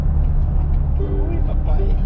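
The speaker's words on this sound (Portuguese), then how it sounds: "É um carro ali." A car passes along a road in Pará, its steady engine and tyre rumble close and continuous, with voices talking over it.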